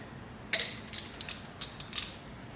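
A ratchet clicks in short, quick bursts while tightening a 10 mm bolt on a 1967 Mustang, close and crisp against a quiet background.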